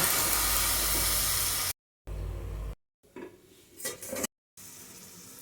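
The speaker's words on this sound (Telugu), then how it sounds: "పాలకూర వేసుకున్నాక కూరను ఒకసారి కలుపుకొని ప్లేట్ వేసుకుని మగ్గనివ్వాలి దగ్గరగా" Spinach fry being stirred in a pan, with soft scraping and stirring sounds and a faint sizzle, broken by short silent gaps.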